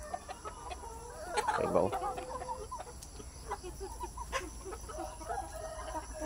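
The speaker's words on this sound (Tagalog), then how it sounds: "Native chicken farm." Native chickens on a farm cluck while pecking at a bunch of lakatan bananas, with soft scattered clucks and a louder burst of calls, plus a brief spoken question.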